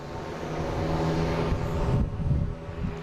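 A Cape Air aircraft trying to take off at Boston Logan International Airport gives a brief, swelling propeller engine drone with humming tones, fairly close and rising in loudness.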